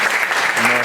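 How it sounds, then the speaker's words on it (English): Audience applauding the speakers of a UNESCO panel session on French-German friendship and cooperation, a brief steady wash of clapping throughout. "So I would like to applause one more time all our speakers."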